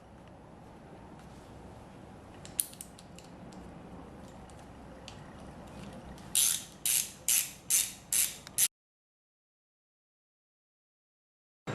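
A ratchet clicks in quick bursts tightening the four 10mm bolts that hold the coil packs to the valve cover of a Nissan SR20DET engine, about six sharp close ratcheting strokes after soft handling noise, then silence.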